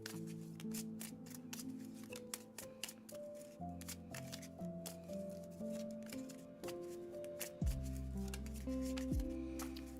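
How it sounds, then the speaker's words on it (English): Tarot cards being shuffled by hand, a steady run of soft riffling and slapping card sounds under music with a sustained melodic line and low bass. "Time to shuffle for your love reading."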